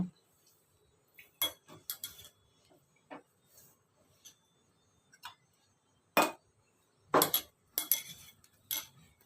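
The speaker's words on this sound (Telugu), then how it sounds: "అయితే తోమేసుకుంటాను గిన్నెలన్నీ" Dishes and pots clink and clatter in a home kitchen as they are scrubbed and washed, with scattered sharp metallic and glassy knocks separated by quiet pauses, louder bursts near the end.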